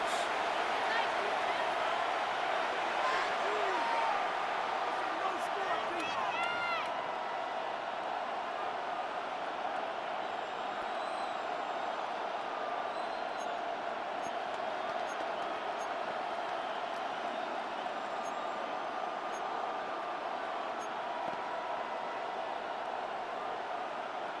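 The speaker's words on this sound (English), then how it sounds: "The crowd making their presence felt." Stadium crowd noise from the Madden NFL 26 football video game, a steady roar throughout with a brief patch of cheering and whistling early on, heard under a commentator's voice.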